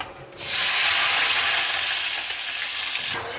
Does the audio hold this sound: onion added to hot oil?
yes